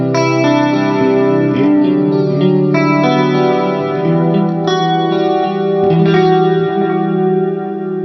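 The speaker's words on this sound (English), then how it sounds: "Number one, I use it for a mild chorus." Electric guitar run through a Boss PS6 harmonizer pedal set as a mild chorus, playing a loud, continuous passage of sustained chords with a shimmering, slightly distorted wash and no talking.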